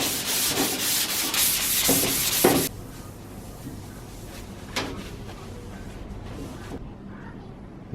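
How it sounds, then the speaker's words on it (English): Rhythmic back-and-forth scraping of hand sanding bare metal on a Morris J commercial vehicle, close and steady for a few seconds, then quieter handling noises. "I'm going to finish hand sanding this"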